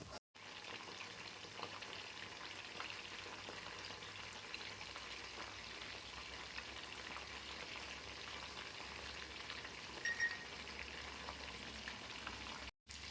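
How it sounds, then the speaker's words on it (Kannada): Cornflour and egg coated lemon pepper chicken pieces frying in hot oil, a steady soft sizzle and crackle held at low level for the whole stretch, with no voices. "ತುಂಬಾ ಸಾಫ್ಟಾಗಿ ಅಷ್ಟೇ ಕ್ರಿಸ್ಪಿ ಆಗೋವರೆಗೂ ಇದನ್ನು ಇವಾಗ ಫ್ರೈ ಮಾಡ್ಕೊಳ್ತಾ ಇದ್ದೀನಿ"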